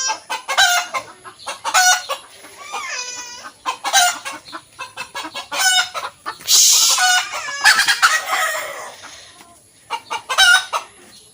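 Loud, close cackling from a backyard desi hen just after laying an egg, a string of harsh, strident squawks and clucks in uneven bursts, one longer shriek in the middle, with no one talking.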